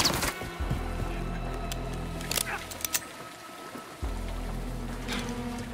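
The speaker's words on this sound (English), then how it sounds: "It's raining fucking hard" Heavy rain pours steadily in Call of Duty: Modern Warfare II, a constant broadband hiss with a low rumble underneath and a few brief, louder splashes or knocks along the way.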